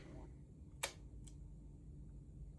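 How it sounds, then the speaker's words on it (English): A prewar Rolleiflex Automat 3.5 camera fires its shutter with one sharp, close mechanical click, followed by a fainter second click, against a quiet background. "I'll hit the shutter release button down here, you should be able to hear it click."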